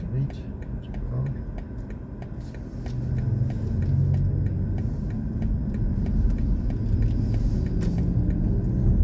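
A BMW i4 M50 electric car driving on a quiet road, a steady low rumble of tyres and motion rising slightly after the first couple of seconds, with soft ticks and faint voices under it.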